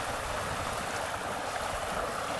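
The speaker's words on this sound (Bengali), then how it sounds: "এইখানে জলের স্রোত দেখো কেমন" Strong water current rushing through a flooded village, a steady broadband wash of flowing water with no pauses, close and continuous.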